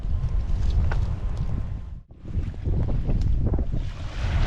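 Strong wind gusting over the Mississippi River during high water, a steady roaring rush buffeting the microphone that drops away briefly before surging back just as loud.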